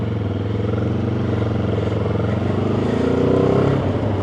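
A Benelli TRK 702 motorcycle pulling away from a stop, its engine a steady loud rumble that rises smoothly in pitch as it accelerates, heard close with no talking.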